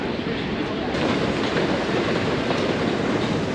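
A fast train to King's Cross rolls along the rails with a steady, dense rumble and rattle, heard from inside at moderate loudness.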